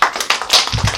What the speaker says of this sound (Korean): 좋습니다. 박수.